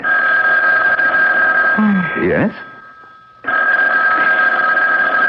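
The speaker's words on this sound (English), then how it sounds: "I better answer the phone." A telephone rings in a 1980 radio mystery drama set in a doctor's office, a loud steady electronic ring that breaks off when a voice answers, then resumes briefly.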